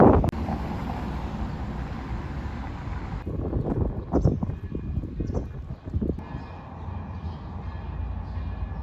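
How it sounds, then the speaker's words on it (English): Gusty wind buffets the microphone in loud rumbling bursts, easing and swelling over several seconds, with faint background noise and no speech. "It's very windy here"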